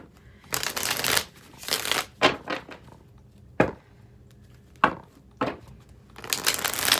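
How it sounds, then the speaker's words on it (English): Tarot cards being shuffled by hand: about six separate bursts of crisp riffling and slapping, close and fairly loud, with short quiet gaps between them and no talking. "3 more shuffles, Scorpio, and then we're there."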